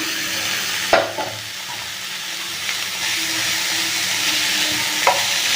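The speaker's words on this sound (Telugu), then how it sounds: "ఇప్పుడు ఇందులో ఈ బిర్యానీ వేసేసుకున్నాము" Leftover biryani being stir-fried with pepper in a hot pan: a steady broadband sizzle with a few sharp scraping clicks of the spatula, close and fairly loud, no one talking.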